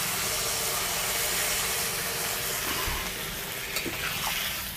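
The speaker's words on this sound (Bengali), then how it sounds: "এবারে জল দিয়ে দেব।" Water goes into a hot pan of turmeric spice mix, setting off a steady hiss and sizzle with faint stirring sounds, close and constant throughout.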